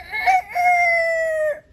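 A man imitates a rooster crowing with his voice, giving one loud, close cock-a-doodle-doo that rises briefly and then holds a long, steady final note.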